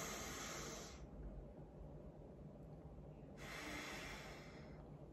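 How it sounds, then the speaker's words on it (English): Alternate nostril breathing: two long, airy nasal breaths heard close up, a sustained hissing inhale or exhale followed by a pause and a second breath, with no talking. "I find it's really beneficial for me is doing alternate nostril breathing."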